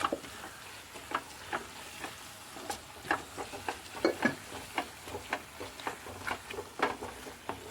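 Masala of onions and spices frying and being stirred in a pan for a Kerala sardine (mathi) roast, with repeated scraping stirs and crackling oil sizzle, close and steady without any talk.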